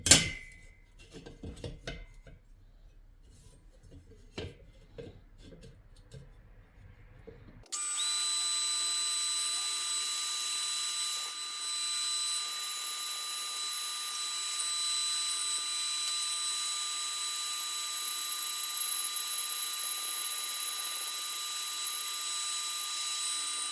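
Power tool cutting Volkswagen cylinder heads on a half-VW engine build: a few clanks and handling knocks, then a steady high-pitched whining cut that runs continuously to the end, fairly close.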